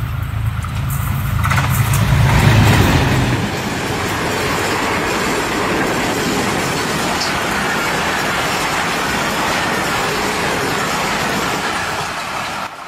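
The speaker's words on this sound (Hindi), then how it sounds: "जब सर सैयद एक्सप्रेस तेज़ रफ्तारी से आ रही थी" Sir Syed Express passenger train passing at speed on a Pakistan Railways track, a loud continuous roar of wheels and rushing air after a brief rumbling approach, sustained to the end with no voices.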